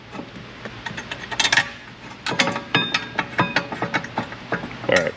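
The top bolt of a brake caliper bracket on a 2015 VW Jetta is threaded in by hand, giving irregular close metallic clicks, ticks and ratchet-like rattles in uneven bursts.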